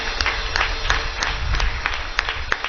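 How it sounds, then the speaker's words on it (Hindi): A church congregation at a Sunday morning service applauds, scattered irregular hand claps rising and falling over a muddy room hum, moderately loud, with no clear talk. "एक बार परमेश्वर के लिए जोरदार तालियों के साथ स्वागत करें।"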